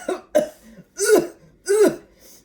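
A storyteller's voice imitates people gagging and coughing, giving four or five harsh, throaty coughs and retching bursts in an uneven rhythm, close and loud, with no other sound around them.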